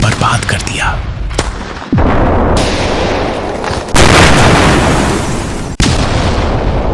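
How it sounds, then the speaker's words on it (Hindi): Machine gun and rocket launcher fire with explosions during a rebel attack on a Syrian military post, loud continuous blasts and rattling bursts with sharp booms. "रिबेल्स मशीन गन्स और रॉकेट लॉन्चर से एक के बाद एक फायरिंग करते गए"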